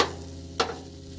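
BBQ jackfruit stirred on a hot griddle, with two brief scraping strokes over a soft, steady sizzle.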